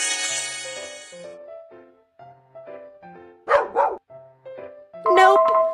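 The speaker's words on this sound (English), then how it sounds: "Nope. Puppy." Puppy barking in a children's animal-sound guessing game, a few short yips heard after a bright musical jingle, with brief sharp bursts standing out against game tones.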